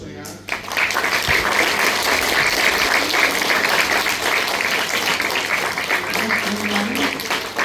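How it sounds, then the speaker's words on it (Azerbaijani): An audience applauds 6th-grade children's dance performance at a school memorial event for the January 20 tragedy, with dense, steady clapping filling the hall close up and continuing without a break. "Gəlin onları, uşaqları bir daha alqışlayaq."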